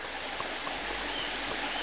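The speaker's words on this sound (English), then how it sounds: "you can hear the sounds of the waterfall" Steady broadband rush of a waterfall in a New Zealand temperate rainforest, a continuous even roar heard from a short distance with no other sounds over it.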